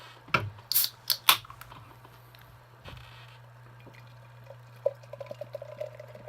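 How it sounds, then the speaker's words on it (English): Natural Ice beer opened from a can and poured gently into a glass: a few sharp cracking clicks up front, then a quiet, steady liquid pour with light fizzing and trickling, close and with no talk. "Not trying to pour it too hard. I don't want too much of a head."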